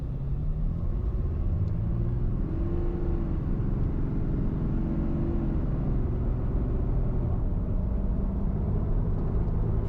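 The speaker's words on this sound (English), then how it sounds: "Okay, let's do a acceleration here." A 2015 RAM 2500 pickup with a Cummins diesel engine pulls away under acceleration, a steady low engine rumble and road drone heard from inside the cab, even and moderately loud.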